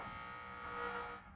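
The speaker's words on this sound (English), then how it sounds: "Fire alarm is on." A fire alarm sounds continuously with a harsh, steady electronic buzzing tone that holds without a break and eases slightly at the end.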